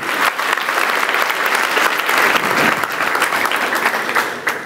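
A church congregation applauds steadily, a dense wash of clapping from many hands that holds at full strength throughout.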